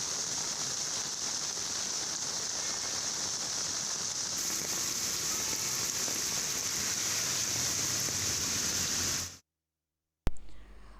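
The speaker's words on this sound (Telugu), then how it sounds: "రాష్ట్ర వ్యాప్తంగా ఎడతెరిపి లేకుండా వర్షాలు కురుస్తున్నాయి" Steady, dense heavy rain pours continuously for several seconds over Hyderabad, a broad even hiss that stops abruptly near the end.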